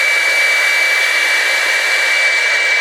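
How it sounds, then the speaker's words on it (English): A Revlon One-Step Air Straight hair dryer blows loud and close, a steady, unbroken airy roar with a thin whine running through it. "Are we about to straighten our hair with the blow dryer?"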